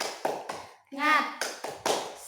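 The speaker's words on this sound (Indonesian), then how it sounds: "Ayo, tepuk semangat." Schoolchildren in a classroom do a rhythmic spirit clap, a few groups of quick claps broken by a chanted voice, close and lively with children's voices mixed in.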